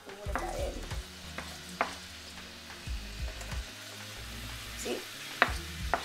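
Egg fried rice with peas sizzles in a hot pan while a utensil scrapes and stirs it in short, repeated strokes, a soft steady frying hiss underneath.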